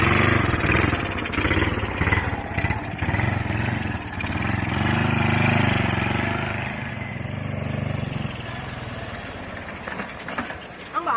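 A motorcycle engine revs and idles close by in a steady, loud rumble, with people talking over it.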